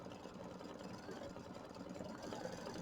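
Embroidery machine stitching small twig branches for an appliqué quilt block, a steady fast mechanical hum and rattle running continuously at even volume, no talk.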